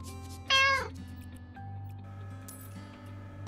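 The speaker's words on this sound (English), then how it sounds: "Meowing Stones. Meow!" A cartoonish cat meow rings out from the Meowing Stones in the House Flipper 2 video game, a single bright, loud, drawn-out call over a quiet hum of game ambience.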